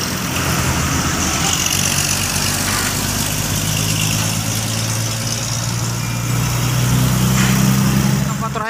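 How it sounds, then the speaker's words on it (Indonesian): Diesel engine of a Komatsu hybrid excavator working at Tanjung Priok port, a steady loud low idle-like rumble running throughout with faint background noise. "Ekskavator hybrid lagi nih, guys."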